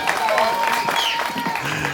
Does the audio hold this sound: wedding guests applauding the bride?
yes